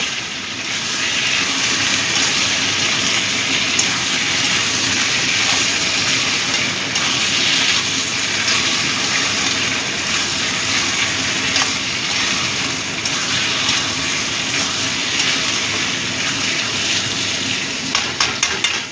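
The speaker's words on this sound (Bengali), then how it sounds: "কিমাগুলো দিয়ে দিলাম। ভালো করে মিশিয়ে নেব।" Mutton mince sizzles loudly and steadily in a hot pan as it is stirred and mixed, a dense continuous frying hiss lasting the whole stretch with no talk.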